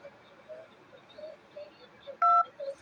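A single short telephone keypad tone for the digit 2, heard once over faint background voice-menu chatter on a phone line.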